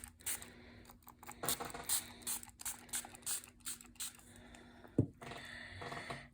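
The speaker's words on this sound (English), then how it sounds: "I just want to add a little sparkle to it. And I'm going to do that by spritzing." A spray bottle spritzes sparkly pearl watercolor spray in a series of short, close, crisp hissing bursts at an irregular pace, with small taps and handling noises in between and one sharper knock near the end.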